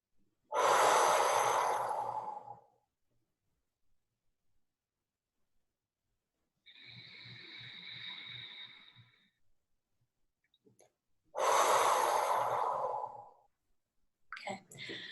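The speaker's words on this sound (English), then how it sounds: "So we're gonna breathe in." A person breathes in through the nose during a guided breathing exercise, with loud airy inhales, a quieter humming exhale and a pause between them, repeated about twice.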